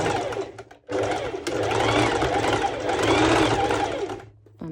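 A sewing machine stitches mesh fabric for a sporty top with a short stitch length, its motor running in a steady, loud, fast whir with a brief pause near the start.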